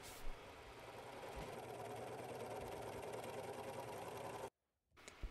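Sewing machine stitching a sleeve to a bodice around a curve, a steady close mechanical whir of needle strokes that stops abruptly near the end, followed by a faint click.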